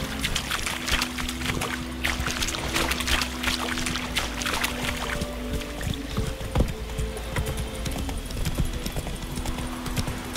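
Horse hooves clip-clop at a steady trot in The Witcher 3 video game, with continuous ambient sound and a low drone underneath, no talk.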